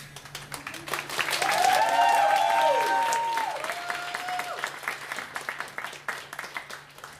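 Audience at a singing school concert applauding as a guest singer is called to the stage, clapping building to a loud peak then thinning into scattered claps, with cheering voices rising over it midway.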